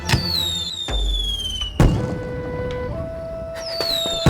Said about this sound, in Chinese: 怎么这个地方老喜欢半夜放烟火？